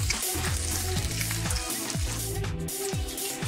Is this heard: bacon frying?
yes